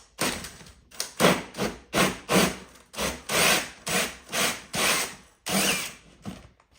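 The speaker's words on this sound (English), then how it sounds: "I'm just going to drill out the sheetrock." A hole saw on a drill cuts out a round hole in sheetrock for a home heating install, with repeated bursts of grinding, rasping cutting, close and loud, pausing briefly between pushes.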